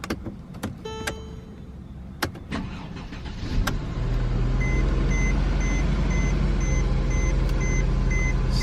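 A Mercedes E-Class has a few door and interior clicks and beeps before its engine cranks and starts, then settles into a steady, loud, close idle with faint periodic chimes over it.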